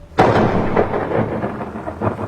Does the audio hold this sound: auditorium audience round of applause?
no